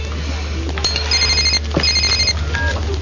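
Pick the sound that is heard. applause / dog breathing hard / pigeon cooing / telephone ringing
telephone ringing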